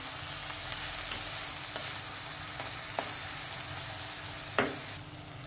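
Capsicum sizzles steadily as it sautés in a hot pan for capsicum rice, a continuous broadband hiss broken by a few sharp clicks of a spatula stirring against the pan, with one louder scrape near the end; no voices.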